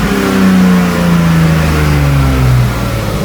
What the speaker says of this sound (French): Essayer de mettre un petit coup de gaz, voir si ça broute encore ou non. Elle tourne sur les 6 et elle monte dans les tours.